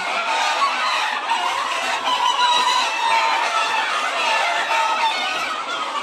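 A dense crowd of chickens on a farm clucks and chatters nonstop, a loud, steady overlapping din of many birds close by.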